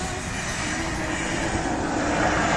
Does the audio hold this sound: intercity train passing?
yes